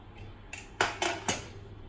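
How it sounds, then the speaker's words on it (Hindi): A pressure cooker holding cooked chana dal is opened. Three or four sharp metallic clanks of the lid and pot ring out close by in quick succession, with no one speaking. "अब मैं उसे कुकर खोल के चेक करती हूँ"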